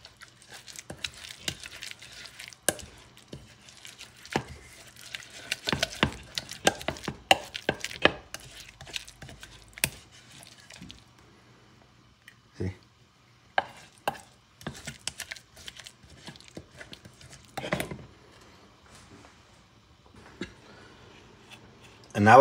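Mojo rojo sauce ingredients being mixed and pounded, with scattered sharp knocks and scraping clatters in irregular bursts, some loud, others faint, amid quieter gaps and occasional talk.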